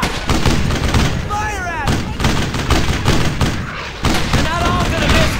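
Gunfire in the WWII shooter Brothers in Arms: Hell's Highway, loud repeated rifle and machine-gun bursts crackling close by amid battlefield noise, with voices shouting over the shooting.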